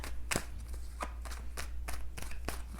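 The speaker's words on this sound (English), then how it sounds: "let me go ahead and give these cards a few shuffles here" Repeated crisp riffling bursts of tarot cards being shuffled, about eight quick flutters in an irregular rhythm, close and clear with no talking.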